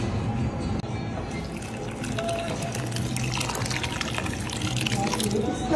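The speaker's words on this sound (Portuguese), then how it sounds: "E bastante água para ferver e ficar um caldo grosso." Water pours steadily into a pot of lentils set to boil, a continuous loud rushing and splashing that lasts throughout with no break.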